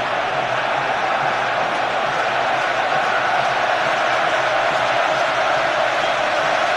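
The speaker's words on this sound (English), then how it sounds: "thunderous now, the noise from the crowd at Wembley" A huge crowd roaring at Wembley during an England versus Croatia football match, a dense, continuous, thunderous wash of noise that holds steady throughout without a break.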